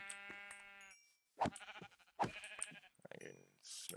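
Blocky Minecraft sheep bleat several times in a modded FTB Ultimate Reloaded world, close and clear, with short gaps of quiet between calls.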